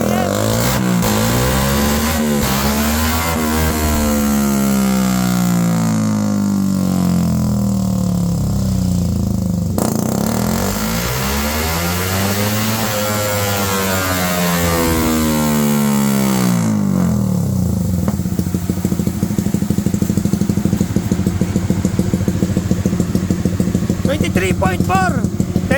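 A remapped Suzuki Raider Fi motorcycle engine on a dyno run, revving repeatedly from idle up to high RPM in long loud sweeping pulls, with a rattling idle between runs.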